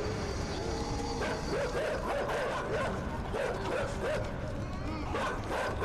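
In the video game INSIDE, a pack of dogs barks and yips in rapid overlapping bursts, close and steady throughout, over dense game background noise.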